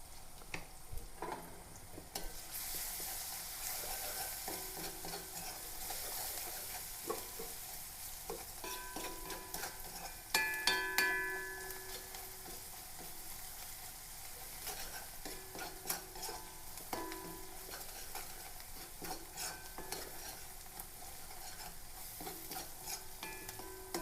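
Onions fry in a pan on a home stove, a quiet steady sizzle broken by repeated scraping and clinking of a spoon stirring, close and without speech.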